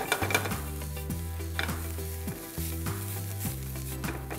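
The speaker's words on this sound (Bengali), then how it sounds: "হাফ টিস্পুন আবার আমরা বাটার দিয়ে দিব, এটাকে গ্লেজ করার জন্য এবং প্রপারলি বাটার ফ্রাই করার জন্য।" Spinach sizzling in butter in a pan, a steady frying hiss with repeated clinks and scrapes of stirring against the metal, close and fairly loud with no talk.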